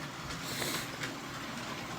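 A model train runs along a multi-scale layout track, its wheels giving a steady clickety-clack rolling sound with a faint squeal, heard close and alone.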